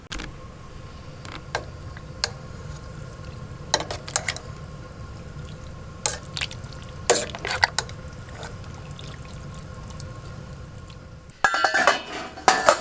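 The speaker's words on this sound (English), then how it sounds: "Now my ground venison is almost to a boil and I've been stirring it as it cooks" Ground venison heating toward a boil in a pot for pressure canning, stirred with a utensil that knocks and scrapes against the pot in irregular clinks over a low simmering bubble, ending in a busier burst of clatter.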